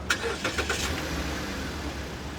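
A car's engine is cranked to start, several quick starter bursts in the first second, then a faint steady low hum with no clear catch to a running idle.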